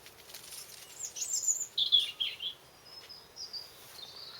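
A small bird sings from a tree above a berry-laden cotoneaster in a permaculture garden, thin high chirps rising and falling faintly over a quiet background for several seconds.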